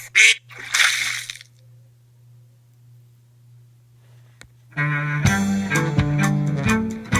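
Cartoonish honk from a drawing app for kids on the iPad, with a goose-like squawk near the start, then a low hum and a burst of bright, bouncy musical tones toward the end.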